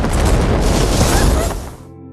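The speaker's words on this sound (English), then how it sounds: "and a huge explosion occurs." A drone strike on a building sets off a huge explosion in a film, a loud, sustained rumbling roar that fills the scene before cutting off abruptly into low residual noise.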